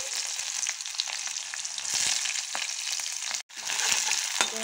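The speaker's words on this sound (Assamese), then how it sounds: "এয়া তেলো গৰম হৈয়ে গৈছে আৰু ইয়াতে অলপমান দিছোঁ মই পাঁচফোৰণ, তাৰপাছত এয়া জলকীয়া দুটা দি দিছোঁ ইয়াতে আৰু এয়া কাটি থোৱা পিঁয়াজটো ইয়াতে দি দিছোঁ।" Chopped onion and green chillies hit hot oil with panch phoron, a close, dense crackling sizzle with scrapes of stirring and one brief pause before the frying resumes.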